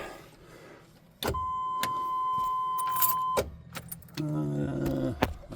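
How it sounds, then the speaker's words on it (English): RV starter motor being tried on a rig after its batteries were charged, giving sharp mechanical clicks at intervals, with a steady tone from about one to three seconds and a short rumbling buzz near the end, no talk. "we're starting to get a starter motor clicking"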